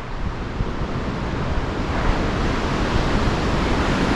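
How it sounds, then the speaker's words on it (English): Ocean waves break on rocks far below a coastal trail, a steady, even roar of surf with some wind noise throughout. "We can see the ocean on the rocks down there. And I just love the sound of the waves."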